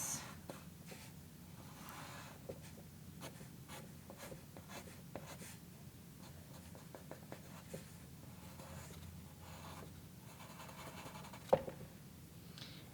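A pencil or pen draws on paper with soft, scratchy strokes in short repeated bursts, close and quiet over a low steady room hum, with no one talking.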